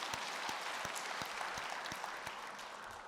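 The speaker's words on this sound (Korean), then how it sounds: "우리 주님께 영광의 박수 올려드립니다" A church congregation applauding during a Sunday service, fairly faint, steady clapping from many people with a few sharper individual claps standing out.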